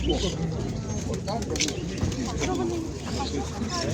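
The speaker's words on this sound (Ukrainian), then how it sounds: "Тоже льотні Ніколаївські голуби." Mykolaiv flying pigeons coo from cages at a livestock fair, soft repeated calls mixed into a busy background of crowd chatter and nearby voices.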